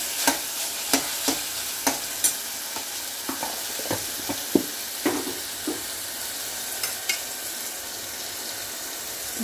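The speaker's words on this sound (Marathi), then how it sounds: "रोजचं कांदा खोबरं मसाला टाकूया." Onion, coconut and masala frying in a pan, a loud steady sizzle with repeated sharp scrapes and taps of a spoon as the mixture is stirred.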